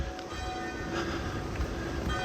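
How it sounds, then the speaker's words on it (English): Church bells ringing at St Aidan's Church in Bamburgh, Northumberland, a continuous wash of tolling heard from outdoors at moderate distance, blended with steady ambient background noise and no talking. "And the bells are even ringing for you folks."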